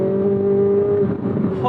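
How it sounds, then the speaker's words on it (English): Chevrolet Corvette Z06 C8 with the LT6 engine accelerating on track, a loud close-up engine note holding a steady pitch for under two seconds. "That LT6 engine is insane, dude. The noise, the power delivery, the torque."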